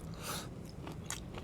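A bite into crispy chicken skin wrapped around rice with gravy gives a few close, crunchy bites and chews in quick succession.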